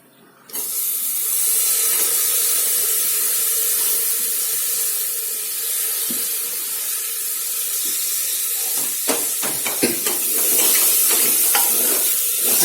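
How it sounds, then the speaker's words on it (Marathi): Masala and tomatoes fry in a pan with a steady, bright sizzle, and spoon stirring clatters and scrapes more busily toward the end. "आता हा व्यवस्थित मसाला परतला की यात आपण टमाटर टाकून ठेवूया"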